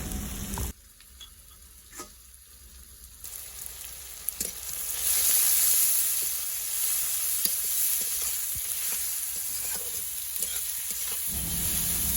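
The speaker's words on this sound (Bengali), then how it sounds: "পেঁয়াজটা একটু লাল লাল করে ভেজে নেব" Chopped onions seasoned with salt and turmeric fry in oil for a prawn malai curry. A quiet start leads into a loud, continuous sizzle that swells and stays steady, close and without voices.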